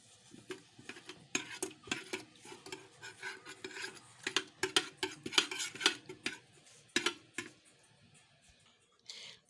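Noodles and spices are stirred inside a kettle in a hostel kitchen, giving irregular scraping, rubbing and clinking strokes that come in quick bursts, close and fairly quiet, with no talk.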